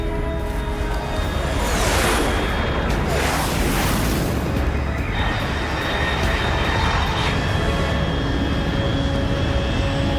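A fast jet aircraft in Metal Gear Solid Delta: Snake Eater roars overhead at high altitude, a loud, sustained rushing drone that swells and sweeps past over several seconds.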